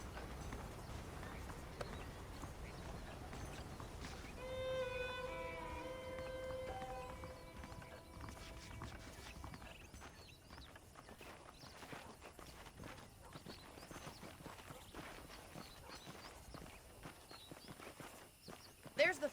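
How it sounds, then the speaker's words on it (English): Faint rhythmic clip-clop of saddled horse hooves walking in the video game Red Dead Redemption, with a brief musical tone early on and a busy background. "The horses are saddled up over here."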